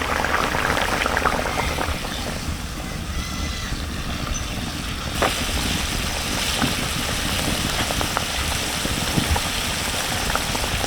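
Mustard paste added to Persian fish cooking in a pan, a steady loud bubbling, hissing simmer with a soft splash as the paste goes in, continuous and close.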